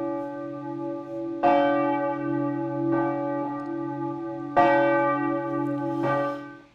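A church bell rings out with four separate strikes, each sharp onset followed by a long, shimmering ring full of overtones that slowly decays, clear and alone with no voices.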